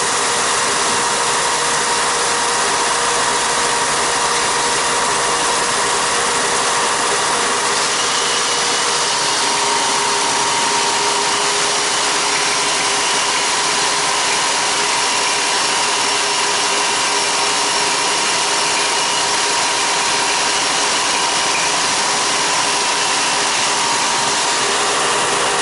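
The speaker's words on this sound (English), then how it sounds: "then we're going to sand some more off." A power sander grinds a barrel held on a taper tool, a steady, loud, continuous whine running unbroken throughout.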